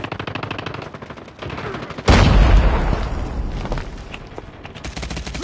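A frag grenade goes off in Call of Duty gameplay: one loud, close blast with a rumbling tail breaks in midway, following earlier rapid gunfire and game noise.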